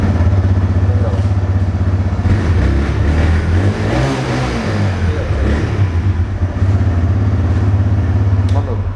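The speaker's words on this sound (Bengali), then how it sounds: "চলো গাড়িটা আমরা স্টার্ট করে নিই, একবার সাউন্ডটাও শুনে দিই, এক্সস্ট নোটটা।" A used motorcycle at a second-hand bike showroom in Murshidabad runs close by with a steady, throbbing exhaust note, swelling briefly in a rev near the middle before settling back to an even idle.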